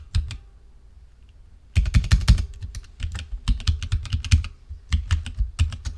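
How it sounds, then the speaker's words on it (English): Keys clatter on a computer keyboard as a password is typed, starting with a couple of taps, then a short pause, then bursts of rapid, close keystrokes in uneven clusters. "So I put my password in to install, wrong password, to install Solitaire."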